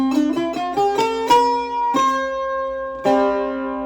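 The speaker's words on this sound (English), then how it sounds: "That's called the Mixolydian mode." A plucked melodic line of single notes in the Mixolydian mode, rising and falling at a moderate pace, each note ringing and decaying, with a final sustained note fading out.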